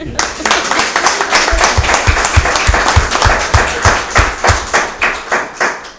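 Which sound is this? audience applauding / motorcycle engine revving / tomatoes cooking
audience applauding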